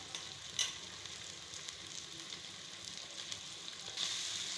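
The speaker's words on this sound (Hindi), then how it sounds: "देखें, ये प्याज को हमने जो है ऑयल के अंदर लाल करना है" Onions frying in oil until light brown, a soft, steady crackle and fizz with a few sharper spits, fairly quiet and heard on its own without talk.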